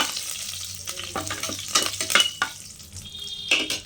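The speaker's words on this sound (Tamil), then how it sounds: "நம்ம ஒரு கைப்பிடி அளவு கருவேப்பிலையை போட்டுக்கலாம். போட்டு ஒரு வணக்கலாம்." A handful of curry leaves hits hot oil with popped mustard seeds, crackling and spitting in sharp bursts alongside quick stirring scrapes.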